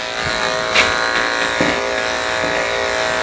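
Corded electric clippers run steadily while grooming a nervous Toy Poodle, giving a constant close buzz with slight shifts in pitch as the blades move through the coat.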